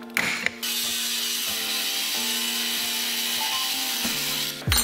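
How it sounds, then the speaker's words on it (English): Angle grinder with a cutting wheel slicing through aluminum: a steady, loud, high-pitched whine and hiss held for several seconds, with a brief start-up burst and a sudden stop at the end. "I'm using a freaking angle grinder to cut this"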